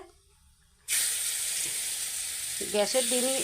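Raw fish drops into a hot wok on a gas flame and erupts into a loud, sudden sizzle that hisses on steadily, with a voice briefly speaking near the end.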